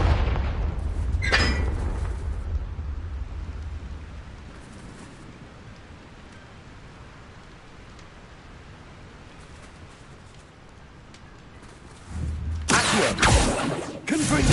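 Booming fire-spell blasts in Hogwarts Legacy, a heavy explosion at the start fading into a long rumbling, crackling tail, then another loud burst near the end.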